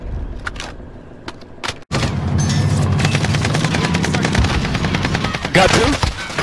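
Heavy gunfire in a Call of Duty Warzone match, with loud sustained automatic bursts and scattered shots after a brief lull, under excited players' chatter.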